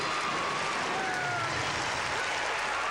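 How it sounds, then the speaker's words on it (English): Hometown crowd cheering and applauding at a 1996 women's gymnastics championship meet, a dense, continuous wash of clapping and roaring from a large arena audience with faint voices mixed in. "And the roar of the crowd."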